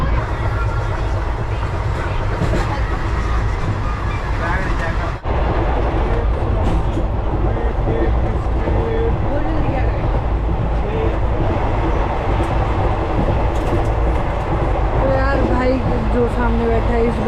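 Interior of a moving passenger train between Kalka and Shirdi, a loud continuous rumble with rhythmic rail clatter, with people talking throughout over the noise.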